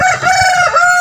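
A street comb gamefowl rooster crows once, loud and close, a short harsh call with no other sound around it.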